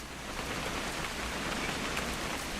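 Steady, dense rainfall from What Remains of Edith Finch, a continuous hiss of drops pattering on surfaces, evenly loud throughout with no voices.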